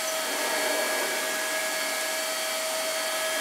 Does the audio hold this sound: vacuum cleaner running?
yes